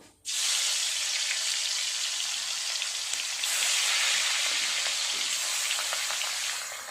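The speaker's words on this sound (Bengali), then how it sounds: "গ্যাসটা জেলে মাছটা আগে ভাজা করে নেব।" Hilsa fish pieces drop into hot oil and set off a sudden, loud, steady sizzle that crackles close up for several seconds without any talking.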